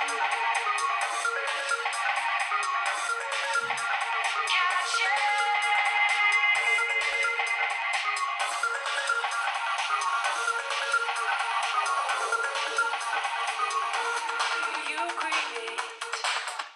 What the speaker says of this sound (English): let's take a little light drum and bass action out on these phones